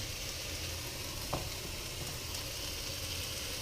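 Vegetables and baby kale frying in a skillet, a quiet, even hiss of sizzling oil that runs steadily throughout, with one brief faint tick partway through and no voices.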